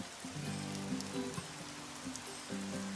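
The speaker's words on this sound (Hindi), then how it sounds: "हम जब भी मिलते बारिश होती है।" Steady rain falls across a broad hiss, with soft tonal music playing underneath throughout.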